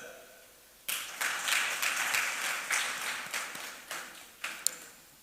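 An audience applauds at an aquaculture conference opening ceremony in Ghana, clapping starting abruptly and continuing for several seconds from a room of people, moderately loud and gradually thinning toward the end.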